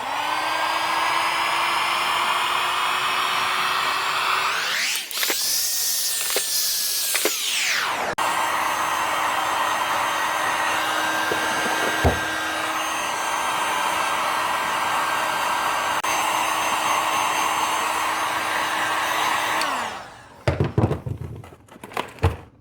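Heat gun shrinking heat-shrink wrap onto BBQ sauce bottles, a steady loud blowing whir running almost continuously near the mic, briefly shifting in tone midway, then cutting off into a few clunks and handling knocks.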